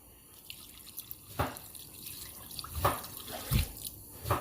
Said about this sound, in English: then we're going to add water